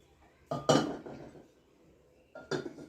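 Two or three hollow clinks of earthenware curd pots knocked together up close in a clay pottery shop, separated by a short quiet gap.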